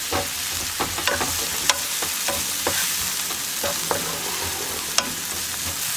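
Onions, curry leaves and tomato fry in a pan for tomato fried rice. A steady close sizzle runs throughout, with scattered sharp stirring clicks and scrapes of a utensil and no talking.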